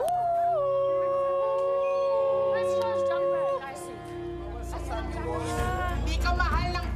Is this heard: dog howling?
yes